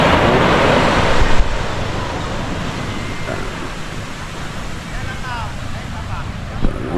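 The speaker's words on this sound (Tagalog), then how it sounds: "Ngayon lang kumalma ang dagat dito mga kaiski." Sea waves along a Philippine coast, calmer now, with a continuous broadband wash of surf and wind buffeting the microphone, loud and close, a faint bump near the end.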